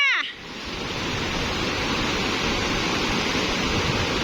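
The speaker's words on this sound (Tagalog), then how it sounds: "sana po makalusot siya sa malalaking alon na ito" Big sea waves rush and churn around a small fishing boat in a steady, loud roar of broadband water noise that follows a brief voice at the very start.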